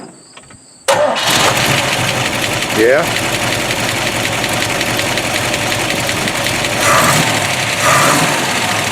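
A Corvette engine with solid lifters fires up abruptly after a quiet moment, then settles into a loud, close idle with a busy mechanical ticking throughout; a voice speaks briefly.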